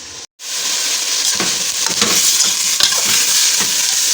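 Garlic-ginger paste frying in a pan for keema pasta: a loud, steady close sizzle with intermittent spoon stirs and scrapes, starting after a brief silent gap, no voices.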